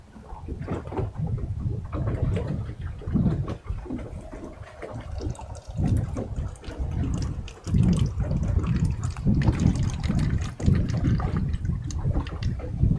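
Water pouring and gurgling through a seagrass meadow filter model of leaves, roots and muck, a steady, loud, close wash of flowing liquid with splashy surges throughout and no talk.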